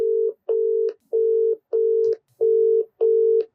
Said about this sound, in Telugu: రీతు చౌదరి అయితే ఫోన్ తీయట్లేదు.